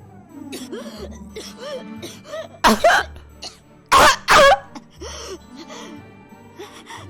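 A character in the visual novel Umineko coughs hard, a series of harsh, ragged coughs with gasps and throat clearing, loud and close, with two especially forceful bursts in the middle.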